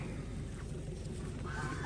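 Muscovy (Barbary) ducks being delivered in Savannakhet, Laos, give loud, close, continuous honking calls that overlap one another over a steady low rumble.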